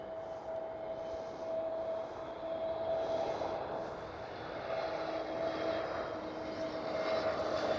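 An EasyJet Airbus A320 arriving on a runway at Schiphol, Amsterdam, its engines a steady roaring whine with a sustained tone, holding at moderate distance and swelling gently over several seconds.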